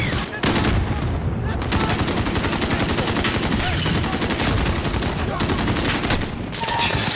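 Dense, continuous gunfire in Modern Warfare, rapid automatic bursts and heavy shots filling the scene nearly nonstop, loud and close, with a brief lull near the start.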